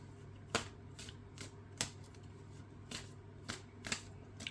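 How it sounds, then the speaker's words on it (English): Tarot cards drawn and handled close by, giving about seven crisp, quick card snaps and slides at irregular intervals over a low background hum. "Grab a couple more cards."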